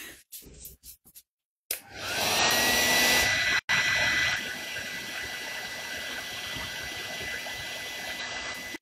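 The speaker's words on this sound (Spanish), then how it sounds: "Ahora lo seco. Con el secador, que no sé dónde lo he puesto." A hair dryer blows steadily and close by, drying a brushed-on weathering finish of vandyke crystals and whiting, after a few brief clunks of handling; loud continuous airflow with no talk.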